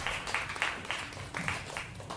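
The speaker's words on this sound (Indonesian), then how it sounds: "tepukan yang bergemuruh untuk sastrawan Kemala kita" Audience applause for the poet Kemala at a Malaysian arts gathering, a quiet patter of clapping with rhythmic bursts, distant and soft.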